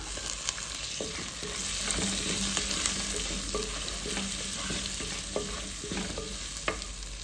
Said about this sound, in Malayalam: ഇനി ഇതിലേക്ക് നമുക്ക് സവാള കട്ട് ചെയ്ത് ഇട്ട് കൊടുക്കാം